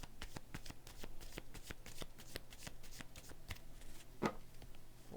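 Tarot cards riffled and shuffled by hand close up, a rapid run of crisp flicking bursts followed by a card being pulled, quiet and without talk.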